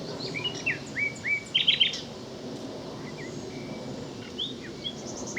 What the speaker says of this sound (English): Sorry, not a chiff-chaff, a blackcap. Beautiful song.